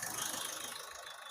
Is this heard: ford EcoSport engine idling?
yes